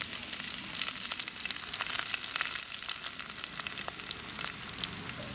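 Fenugreek, tamarind and dried red chillies frying in a pan over an outdoor village fire, a steady loud sizzle and crackle that runs unbroken from start to finish, with occasional stirring and no voices.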